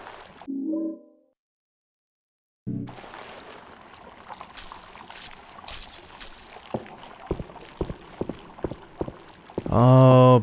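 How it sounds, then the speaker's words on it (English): Wet, squelching game sound effects from Silent Hill: Origins, a burst of watery bubbling and squishing noises with sharp clicks scattered through, ending in a loud, dense gurgling surge. "More nasty squishing noises."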